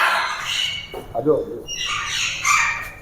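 Macaws at a parrot breeding farm in Punjab give harsh, loud squawks in short bursts close by, with people talking among the calls.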